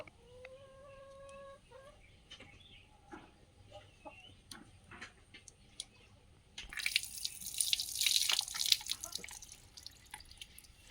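Tap water runs at a handpump or tap, splashing down while shampooed hair is rinsed, with scattered drips early on before a louder, steady gush of water takes over near the end; a rooster and hens cluck faintly in the background.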